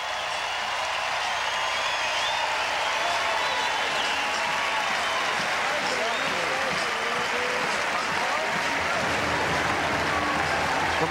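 A US Open 2003 tennis crowd applauds the players at an evening match, continuous loud clapping sustained for over ten seconds, with a commentator's voice faintly underneath.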